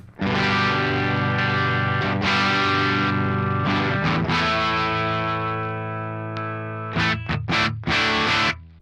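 An electric guitar through an Axe Fx III Dumble Overdrive Special amp model with the bright switch on rings out in sustained overdriven chords, with a few short choppy strums near the end.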